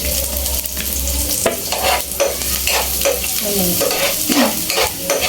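Garlic, tomato and onion sauté in a hot pan, giving a steady loud sizzle broken by repeated scraping stirs, while a voice briefly speaks once.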